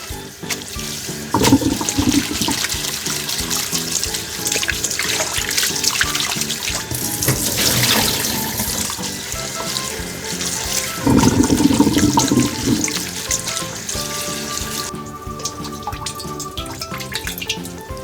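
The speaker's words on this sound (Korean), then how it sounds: "깨끗이 씻어놓은 고사리인데 한번더 씻을게요" Bracken fern (gosari) is rinsed under running water in a kitchen sink, with a continuous close splashing flow, surges as the fronds are handled and a few dripping sounds, heard without talk.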